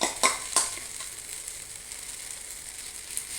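Carrot egg omelette cooking in a pan, a steady hissing sizzle with a few quick utensil scrapes near the start, close and alone with no voices.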